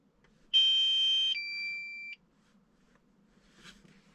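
A single electronic battery warning beep sounds for about a second and a half, steady and shrill, then stops, leaving a quiet background with a faint click.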